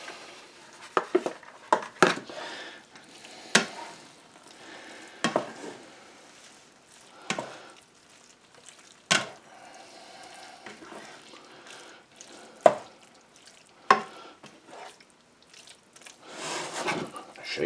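Cheddar cheese being stirred into burrito filling in a skillet on a burner, with scattered scraping clinks of utensil on pan and soft background movement, fairly close.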